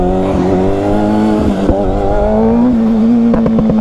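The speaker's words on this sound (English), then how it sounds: "We're gonna have to give it a lot of gas." A motorcycle on a wheelie machine is given heavy throttle. Its engine holds a loud, close, sustained rev with a rising and steadying harmonic drone, and a brief dip and surge midway.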